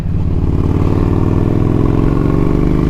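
A 2014 Yamaha Stryker cruiser motorcycle rides along under steady throttle, its engine a loud, close, continuous low rumbling drone with a slowly rising pitch.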